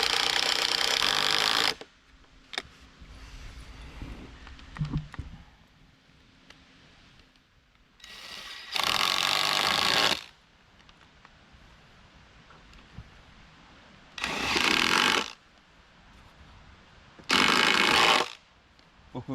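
A power driver sinks deck screws into spliced wooden barn beams in four loud, sharp bursts of whirring, each a second or two long, separated by quieter stretches of low background noise.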